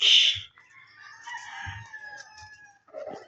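A rooster crows loudly and close at the start of the clip, followed by quieter clucks and calls from hens in a small backyard poultry coop, with no talking.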